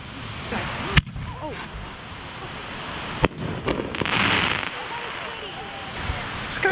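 Fireworks are set off nearby outdoors on a New Year's weekend, giving two sharp loud bangs over a crackling, hissing background, with a rushing burst partway through.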